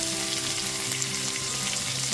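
Finely chopped medium-sized tomato hitting hot oil for chana dal, a steady close sizzle with faint stirring running evenly throughout.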